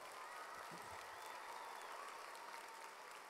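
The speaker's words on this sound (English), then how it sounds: "Let's give her a round of applause." Steady audience applause at a premiere event in Orlando, a dense, even wash of many hands clapping, quiet and somewhat distant, continuing unbroken with no talk over it.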